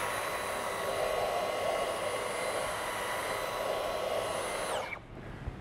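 A Dyson vacuum cleaner running on a sofa to pick up hair, a steady close whine with a tonal hum under an airy rush, holding even for several seconds before winding down and cutting off near the end.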